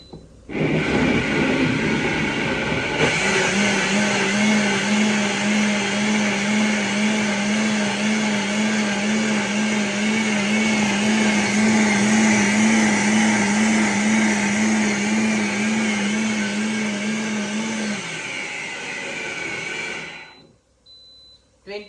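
A Libra mixer grinder runs in a home kitchen for about twenty seconds, a loud, steady whirring motor with a sustained hum, then winds down and stops on its own timer; no speech.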